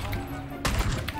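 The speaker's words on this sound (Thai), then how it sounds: "เลิกยิง" Gunfire in the battle royale game PUBG, a sudden loud burst of shots at close range that breaks into a quieter background partway through the moment.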